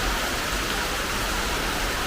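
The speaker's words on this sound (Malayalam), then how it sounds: "മഴ" Steady rain falls continuously in an even, close hiss with no clear voices, recorded at home while fish is being air-fried nearby.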